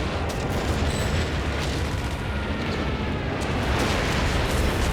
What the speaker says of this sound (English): his repair station's about to get annihilated by artillery as well